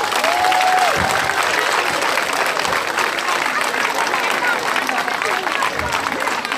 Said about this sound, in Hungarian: szeretnék kérni egy nagyon nagy tapsot a gyerekeknek